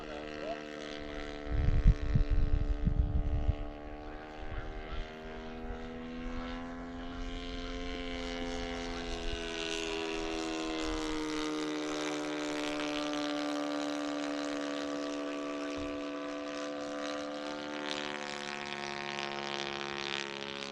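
A Hanger 9 Harvard RC plane's FS90 four-stroke engine drones steadily, its buzzing pitch climbing slightly and holding high, after a few low thumps near the start.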